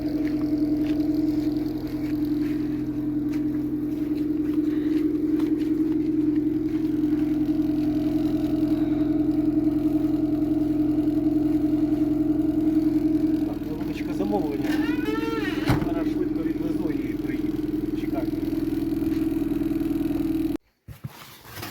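A car engine idles steadily while cherries are loaded for rural delivery, a continuous mid-low rumble throughout with a brief rise near the end before it cuts off; no voices are heard.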